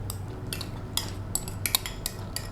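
Coconut cream mixed with young coconut meat being stirred in a pot, a run of light metallic clinks and scrapes of a utensil against the pot at an uneven pace over a low hum, with no talking.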